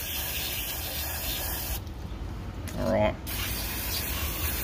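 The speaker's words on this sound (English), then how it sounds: "Degrease it out, get the crud out." Degreaser hisses in a short, close spray burst onto dirty parts of a Yamaha YZ motorbike's water pump, heard over a steady background hiss and brief talk.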